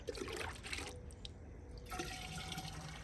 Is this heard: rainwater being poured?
yes